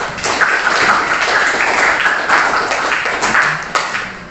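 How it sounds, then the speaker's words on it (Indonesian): Classroom audience applause during a teacher training lesson in Indonesia, a dense, steady wash of clapping that holds loud and even for over four seconds with no talk over it. "Kasih tepuk tangan buat Mas Reno"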